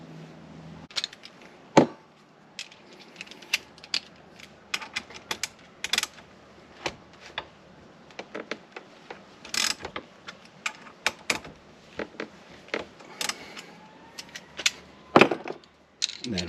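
Repeated sharp mechanical clicks from a wrench ratcheting on an engine rod bolt as it is loosened, coming in irregular bursts of close, crisp ticks over a quiet background with a few louder knocks.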